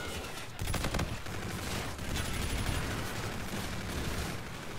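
A suppressed K-Bar rifle in Call of Duty: Infinite Warfare fires dense, continuous bursts of muffled shots. The gunfire is layered over busy battlefield noise, with a few brief gaps.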